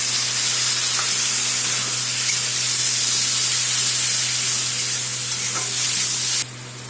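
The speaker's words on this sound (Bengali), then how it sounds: "মাছের তেলটা দিয়ে ভালো করে কষালাম" Spices, tomato, chillies and vegetables sizzle steadily in fish oil in a pan, a loud, even frying hiss with faint stirring scrapes, ending abruptly near the close.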